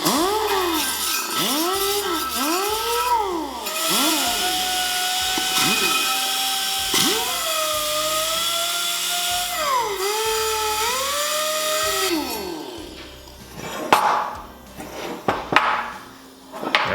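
A rotary grinding or deburring tool cleans up welds inside the neck of a motorcycle bagger frame, whining loudly in rising and falling sweeps as it bites and eases off. It stops near the end, leaving a few clanks and handling noises.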